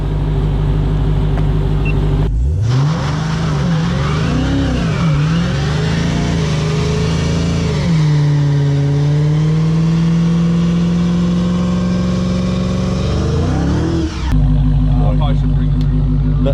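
A 2021 Dodge Charger Redeye Hellcat roars through a line lock burnout, revving hard in repeated surges before holding a sustained high drone, loud and close, with talk before and after.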